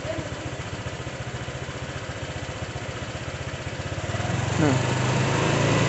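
A Honda Vario 125/150 scooter with a faulty throttle body idles with a steady putter, then is gently revved so the engine note rises and grows louder toward the end, with a brief spoken word near the start.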